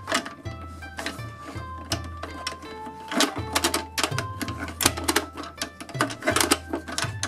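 Plastic toy tool working bolts loose on an Anpanman toy carpenter work bench, giving repeated quick clicking and rattling clatters in a busy rhythm over a steady low background hum, close and fairly loud.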